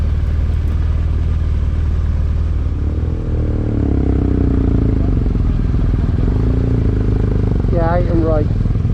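Several motorcycles ride off from a car park on a touring trip through Scotland and Wales, their engines a loud continuous rumble that swells midway, with voices over it and a brief rising whine near the end.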